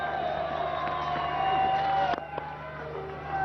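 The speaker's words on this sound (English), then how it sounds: "the crowd here at Queen's also getting involved now as well" Crowd singing and chanting at a one-day cricket match between Bangladesh and Zimbabwe at Queen's, a sustained tonal chorus from the stands, steady and fairly distant, with a few brief knocks near the end.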